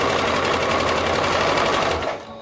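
A sewing machine runs a fast, even whirring stitch along a knit romper seam for about two seconds, then stops abruptly after a short back-stitch.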